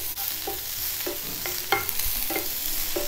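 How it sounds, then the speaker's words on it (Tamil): Vegetables being sautéed for corn on toast sizzle in a pan as a spatula stirs them, with repeated scraping strokes roughly every half second over a steady hiss. "இது 2 நிமிஷம் வதக்கினா போதுமானதுங்க"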